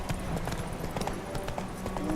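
Horse hooves clip-clop at a steady walking rhythm in The Witcher 3 video game, close and continuous under a dense game soundscape.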